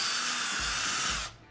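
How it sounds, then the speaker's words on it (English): A power drill boring a pilot hole with a small bit, through a piece for a compact LED dimmer build, a loud, close, high whine held steady for over a second before cutting off abruptly. "Let's start with the smaller drill bit first so we can actually do a pilot hole."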